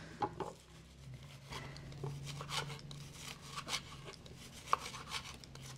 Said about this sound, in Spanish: Ya también estoy este, picando los chiles.